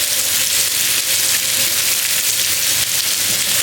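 Potatoes seasoned with turmeric and salt fry in hot oil, giving a steady, close, even sizzle that runs without a break and with no voices.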